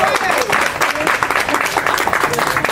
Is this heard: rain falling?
no